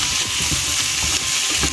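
Chopped white sweet onions and green chilies frying in a hot pan, a steady close sizzle with soft crackles throughout, no talking.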